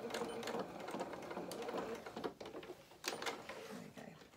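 A home sewing machine stitches in quick rattling bursts, running off the fabric edge and then reversing, with short pauses between runs at close range and fairly low volume.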